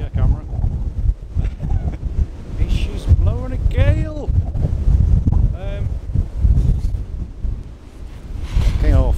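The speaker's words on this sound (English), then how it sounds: "She's blowing a gale!" Strong gale wind buffets the microphone at Sycamore Gap on Hadrian's Wall, a loud continuous rumble that runs under a person speaking throughout.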